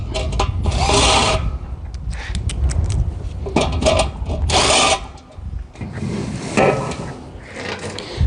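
Impact gun bursts tightening 13mm bolts while assembling a small concrete mixer bowl, several loud broadband whirring runs with gaps of clanking and handling between them, fairly close.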